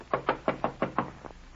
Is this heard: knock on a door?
yes